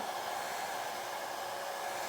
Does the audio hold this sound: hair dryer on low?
yes